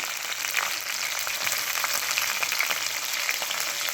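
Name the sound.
onions and green chillies frying in oil with cumin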